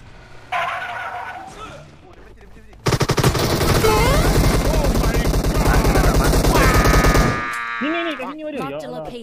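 Rapid, loud automatic gunfire bursts in a shooter video game, with the shotgun in play, fill the middle of the clip, followed by chirpy synthetic game effects; gameplay sounds dominate throughout.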